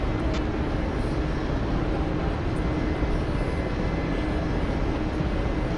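Steady, loud engine and rotor drone from a damaged helicopter running on one engine in the DCS flight simulator, a continuous broadband roar with no break and no voices.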